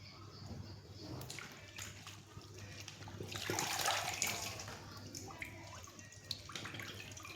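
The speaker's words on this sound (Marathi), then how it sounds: "चना पालक बनवायला धुवून घेणार आहे." Spinach being washed in water for a chana palak dish, with steady sloshing and splashing that swells in the middle, close by and continuous, with no talking.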